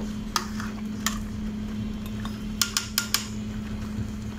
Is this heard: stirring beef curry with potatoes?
yes